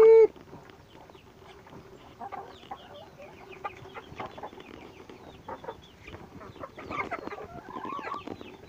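Chickens are being fed grass, with soft, scattered clucks and murmurs coming and going at a modest distance and growing busier toward the end.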